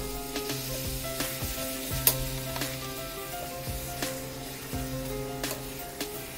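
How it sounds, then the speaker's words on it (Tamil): Mutton pieces fry in hot oil with tomato in a pan, a steady close sizzle broken by occasional scraping stirs and light clicks of a spoon. "எண்ணெயிலே கொஞ்சம் அப்படியே ஃப்ரை ஆகட்டுங்க."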